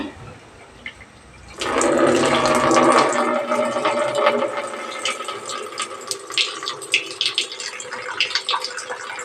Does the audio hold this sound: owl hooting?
no